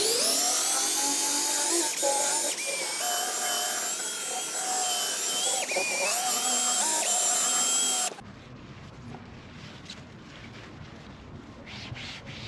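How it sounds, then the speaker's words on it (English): A drill fitted with a small polishing head buffs car paint, a steady high-pitched whirring rub with shifting tone that runs loud and close, then cuts off abruptly to quiet rustling. "So I'm just going to polish with this little polish head on the drill."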